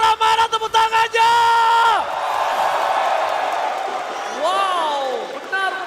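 A packed crowd at the Istora arena roars and cheers through an ESL S3 upper bracket final esports match between ONIC and AP BREN. A loud yelling voice opens it, then a broad, sustained crowd roar swells and carries on to the end.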